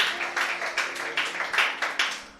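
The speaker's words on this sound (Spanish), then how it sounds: "Dale un aplauso al Señor, hermano, si tú crees eso." A church congregation claps in a steady rhythmic pattern, a short burst of repeated hand claps at moderate distance, fairly soft and without talk over it.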